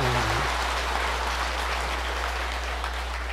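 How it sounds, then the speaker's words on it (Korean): Sustained applause from an audience at a Buddhist temple gathering, clapping for the abbot; dense, steady crowd clapping fills the whole stretch after a brief low voice at the start. "다시 한번 박수를 한번 보내주세요."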